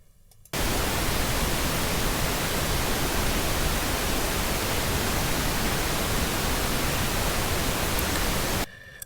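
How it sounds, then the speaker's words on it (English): A steady pink noise test signal plays at an even, loud level while a mix is being set up, starting and stopping abruptly with silence at either end. "So I'm going to turn on the pink noise."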